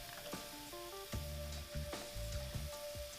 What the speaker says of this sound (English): So they've been frying for about 2 minutes, so we're going to add in the shallots and the garlic.